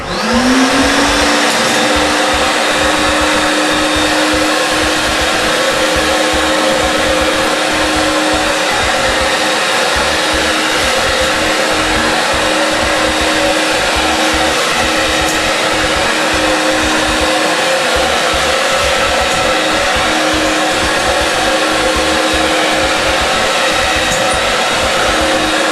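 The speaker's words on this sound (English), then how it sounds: "we're going to suck up the remaining slurry" Wet vacuum sucking up leftover concrete slurry from a floor during polishing, a loud steady motor roar with a rising whine at the start, then holding constant for the whole stretch, close up and without talking.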